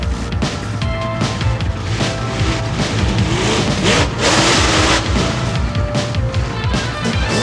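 Monster truck engine roaring and revving hard while the 12-foot-wide truck crushes cars, loud and continuous with bursts of throttle and crunching impacts throughout.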